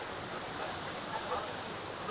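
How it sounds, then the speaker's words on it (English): Satrem waterfall near Valpoi in Goa, a steady broadband roar of falling water that stays even and continuous throughout, close and moderately loud with no talk over it. "Just look at that amazing sound of that waterfall."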